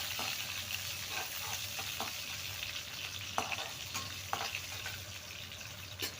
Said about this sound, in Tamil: போட்டு நல்லா வதக்கிக்கோங்க.